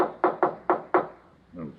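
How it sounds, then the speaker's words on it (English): Four firm knocks on a wooden door in a radio drama, evenly spaced and close, followed by a faint low rustle. "Who knocks?"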